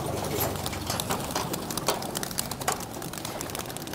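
Pigeons near a loft and aviary coo and flap as they circle and settle, a dense busy mix of soft calls and wingbeats, steady and fairly close.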